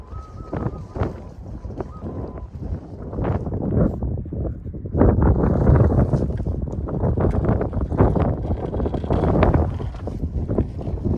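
Wind gusts buffet the microphone at Danebower and Reeve-Edge quarries, a loud, rough rumble that swells and falls in irregular blasts throughout.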